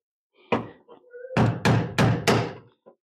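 Small hammer tapping a knockout on an electrical box during a generator transfer switch install: one sharp knock, a couple of light taps, then four loud evenly spaced strikes close up.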